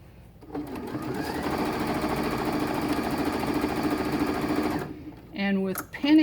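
Sewing machine stitching quilt panels together, a close continuous mechanical whir lasting about four seconds before stopping, followed by brief voices.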